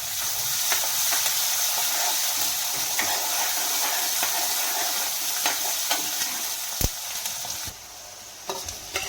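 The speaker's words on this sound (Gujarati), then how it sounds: "હવે થોડી ડુંગળી નાખીને ફરીથી સાંતળી લઈશું।" Onions sizzle in a hot pan with curry leaves, red chili and garlic for a Kathiawadi mung bean curry, a steady close frying hiss with occasional stirring clicks and scrapes, no talk.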